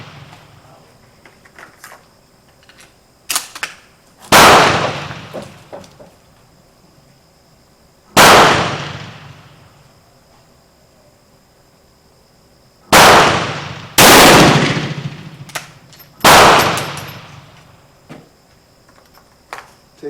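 An Italian Vetterli carbine fires five loud, sharp shots at a shooting range, spaced unevenly over about twelve seconds, with two coming close together and each blast trailing off into a short echo.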